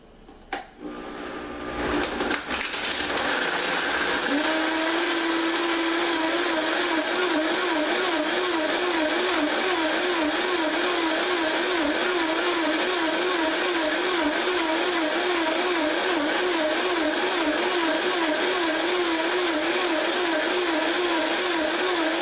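An OmniBlend 5 blender spins up after a few clicks and then runs at a loud, steady whine with a fast warbling pulse, continuous for about twenty seconds.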